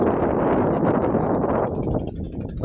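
Strong wind sweeps across open rice fields in the Lao countryside, a loud, steady roar buffeting the microphone that eases slightly toward the end, with no voices.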